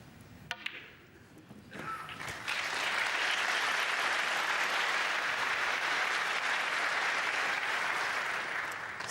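Audience applause at a snooker final held at Goffs in Ireland, a sustained, even burst of clapping that begins after a couple of sharp clicks and continues strongly with no talk over it.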